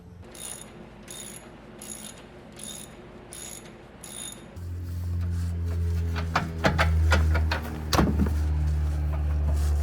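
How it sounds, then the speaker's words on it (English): A ratchet wrench loosening and removing 15mm bolts on a Ford F-150 Lightning pickup truck: a quick run of rhythmic clicks, then slower, louder bursts of ratcheting over a low hum. "I'm going to completely remove the front one, and then the rear one, I'm just going to loosen it up a little bit"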